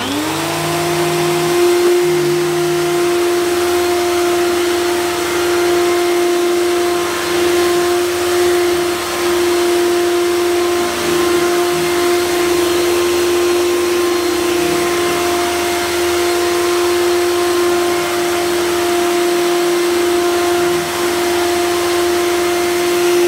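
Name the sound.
Electrolux Contour Z1460 800 watt vacuum cleaner cleaning carpet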